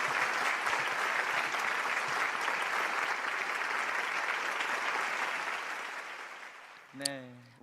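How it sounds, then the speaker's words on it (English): Sustained audience applause for engaged couples at a youth marriage blessing festival fills the hall steadily, then thins out near the end as a voice briefly cuts in. "let us send a warm round of applause again to all these couples"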